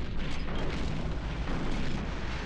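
Artillery fire in the Panzer General II strategy game, a dense rumbling boom of a blast filling the whole moment, loud and close with no pause.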